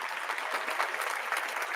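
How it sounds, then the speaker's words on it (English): A short burst of crowd applause, dense steady clapping at moderate level for under two seconds with no voices. "Let's give him a round of applause for that."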